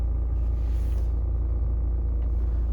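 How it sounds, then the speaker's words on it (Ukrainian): A 2017 Volvo V40 Cross Country engine idling at a used-car dealership, a steady low rumble heard up close and alone, no voices. "Двигун працює ідеально."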